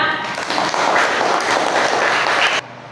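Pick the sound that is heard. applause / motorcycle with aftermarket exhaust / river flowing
applause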